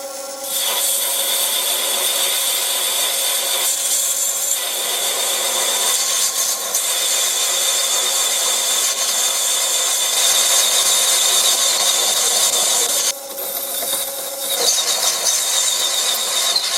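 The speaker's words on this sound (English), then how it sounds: "But now I'm going to part this off." A lathe parts off a vintage round leather belt pulley with a continuous loud grinding, scraping cut that holds steady, with a brief dip near the end.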